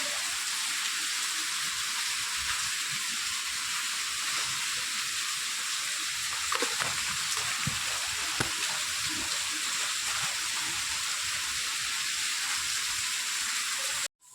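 Rain keeps falling steadily after the wind has died down, a constant nearby wash of hissing water that runs unbroken before cutting off abruptly at the end.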